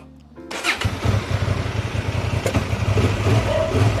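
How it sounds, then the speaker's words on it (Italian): A Honda Transalp XL750 motorcycle engine cranks and fires up close and loud, then settles into a throbbing, pulsing idle with a couple of sharp blips of the throttle. "Anzi, l'accendo, faccio una bella sgasata."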